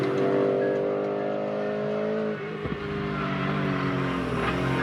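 BMW M3 with its 4.0-liter S65 V8 engine, a close sustained rev that holds high, dips briefly, then climbs again, loud with no voices.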